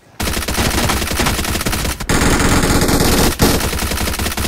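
Rapid automatic gunfire in PUBG Mobile, loud continuous bursts of shots with two brief pauses between sprays, close and dense, without talk.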